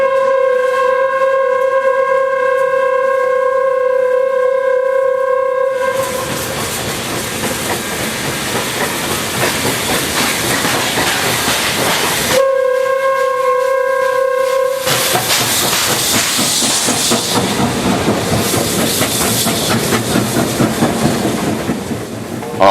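Steam train on the Feiku branch line in China rumbles past with dense clattering and hissing noise. Sustained whistle-like tones sound at the start and again briefly mid-way, and no one speaks.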